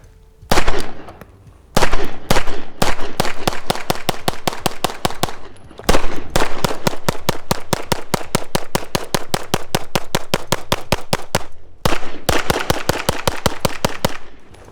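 Strings of rapid pistol shots from a cheap 2011 handgun during a torture test, loud and close, fired in fast bursts of many sharp cracks separated by brief pauses.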